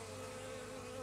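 Bees buzzing around beehives, a dense, close, continuous hum of many insects with a steady droning pitch, no voices.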